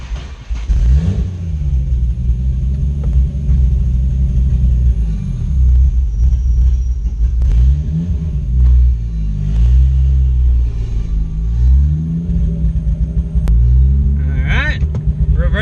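A car engine running after repairs to fix a trigger issue, a loud close rumble that rises and falls through several revs over a steady idle, with a voice faintly present.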